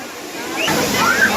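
Water pours steadily at the crowded Courtallam waterfall in Tamil Nadu, a broad continuous rushing wash that swells slightly midway, with a voice speaking over it.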